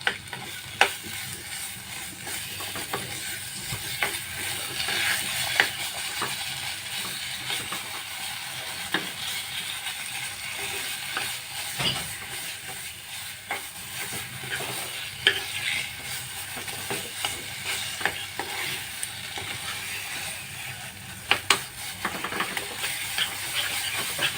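A beetroot, carrot and coconut mixture with cardamom powder sautéing in ghee in a kadai: a quiet, continuous sizzle broken by repeated scrapes and taps of a spoon stirring, over a long stretch.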